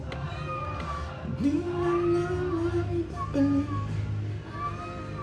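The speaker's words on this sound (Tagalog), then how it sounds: "Pagpasensyahan nyo na po yung pusa." A cat meows in long drawn-out cries, two distinct yowls rising then falling, close by in a room during a livestream with quiet background noise.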